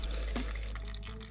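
Coolant drips from the turbo coolant line of a turbocharged Nissan 350Z onto a camera, giving a few close, distinct wet taps over a steady low garage rumble, with no voices.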